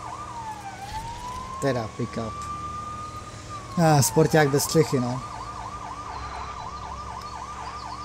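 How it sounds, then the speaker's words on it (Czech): In Lego City Undercover, a police car siren wails in a long rising and falling tone and then switches to a fast yelp. Bursts of engine and crash noise cut in, and a player talks over it. "prostě můžem zapínat sirény"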